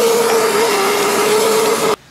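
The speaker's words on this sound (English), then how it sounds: "So you want to give it a good vacuum in there and clean it up while you're inside." A vacuum cleaner runs steadily inside a Mazda Miata MX-5 convertible's interior, a loud, even whine that cuts off abruptly near the end.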